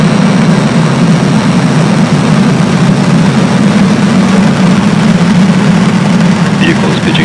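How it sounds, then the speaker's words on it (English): SpaceX Falcon rocket lifting off from the Space Coast on the Maxar 3 mission, a continuous loud, heavy low rumble that holds steady throughout with a voice heard over it. "Liftoff."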